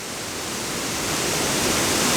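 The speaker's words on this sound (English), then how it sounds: "here's the waterfall from above" A waterfall in a national park, heard from a side trail above it, gives a steady, loud, broadband rush of falling water that swells slightly over a couple of seconds, with no voices.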